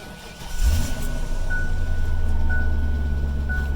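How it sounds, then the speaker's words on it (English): A 5.0 V8 in a late-1990s Ford Explorer or Mercury Mountaineer cranks and starts, then settles into a loud, steady idle close by, with a faint repeating chime over the engine. "when you're done with your oil change, start your vehicle up"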